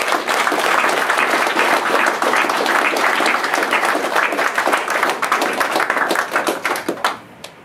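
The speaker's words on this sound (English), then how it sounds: "Just give them a clap" An audience at a tech conference's closing session claps loudly and continuously, the sustained applause thinning into scattered individual claps before dying away.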